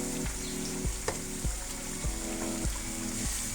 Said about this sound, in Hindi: इसकी भुनाई हम बहुत अच्छी तरह से करेंगे ताकि स्मेल बिल्कुल भी ख़त्म हो जाए।